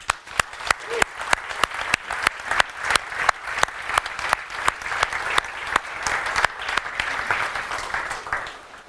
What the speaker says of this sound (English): big thank you and big clapping to Jose, JP, Ahmad, Monica, George